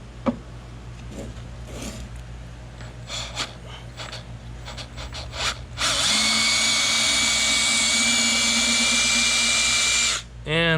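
A power driver with a 1/2 or 3/8 inch drive spins out a fastener from a steel boat deck, a loud sustained whine lasting several seconds after quieter handling sounds and breathing.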